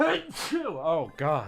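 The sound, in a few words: sneeze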